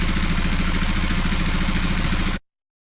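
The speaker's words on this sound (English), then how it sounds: "I'm going to go for the sound of an old muscle car engine idling" AI-generated loop of an old muscle car engine idling, a steady, loud, low, uneven chugging growl with rhythmic pulses that runs without pause and then cuts off abruptly.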